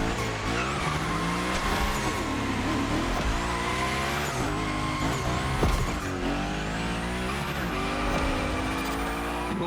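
Unicorn car sliding through big gymkhana drifts in The Crew Motorfest, its engine droning steadily with continuous tire squeal and skidding, loud and close throughout.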